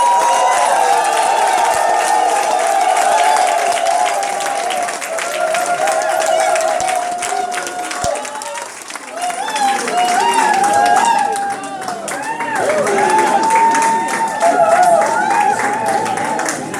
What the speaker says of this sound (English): with a thunderous applause, greet the new graduates